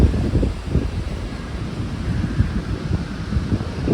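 Wind gusting on a beach, a loud continuous rumble of buffeting against the microphone with a low roaring texture, steady throughout with no talk.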